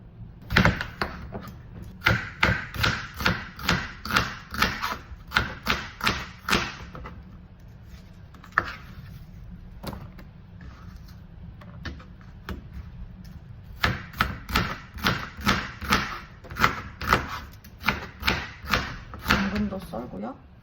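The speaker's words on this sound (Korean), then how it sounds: "이제 야채 썰어 볼게요." A knife chops vegetables such as carrot and onion on a cutting board in a home kitchen, with brisk, evenly spaced knocks in long runs, a quieter sparse stretch in the middle, then rapid chopping again, close by.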